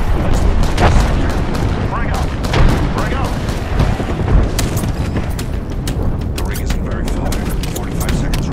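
Grenade blasts and gunfire in an Apex Legends ranked battle royale match, several booming impacts and crackling bursts scattered through the stretch, with a player voice talking over the action.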